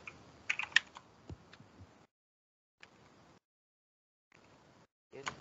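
Keystrokes on a computer keyboard while coding Java, bursts of quick close clicks separated by short silent pauses, faint and intermittent.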